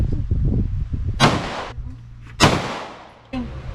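Two sharp, loud gunshots from a Colt Defender 1911 .45 ACP pistol ring out about a second apart at a range, with muffled chatter and handling noise before the first shot and a fainter third crack at the end.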